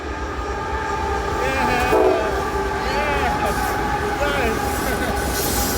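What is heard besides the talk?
CSX train passing with horn toot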